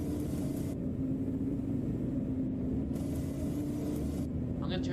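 A 2016 Blue Bird Vision school bus engine drones in a continuous low, steady rumble heard from inside the cabin, loud and unbroken throughout.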